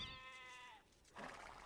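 A sheep in the Age of Empires strategy game lets out a faint, wavering bleat, followed by a brief softer call, quiet under a low background hiss.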